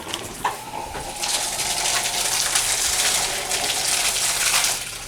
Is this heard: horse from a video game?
no